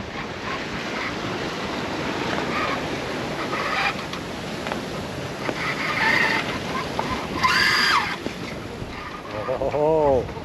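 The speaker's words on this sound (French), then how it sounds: "les vagues sont revenues" Sea waves wash around a sailboat crossing the Strait of Gibraltar, a steady rushing surf with wind buffeting the microphone, swelling louder in surges near the end while a voice speaks briefly.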